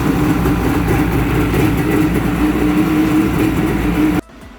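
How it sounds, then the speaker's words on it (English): A 1995 Yamaha Waveraider jet ski engine runs steadily at a loud, even idle, a constant droning hum with a slight tonal whine, then abruptly cuts off near the end, leaving quieter background noise. "Let me try to start it one more time to make sure."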